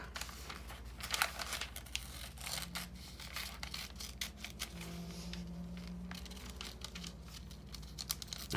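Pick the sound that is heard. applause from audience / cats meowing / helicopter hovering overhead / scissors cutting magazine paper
scissors cutting magazine paper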